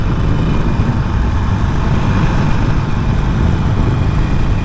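A Harley Sportster Iron 883 engine rumbles steadily while riding, a continuous low throbbing drone mixed with wind noise, close and loud with no talking.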